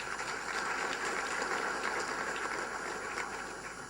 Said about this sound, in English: I think this requires an applause.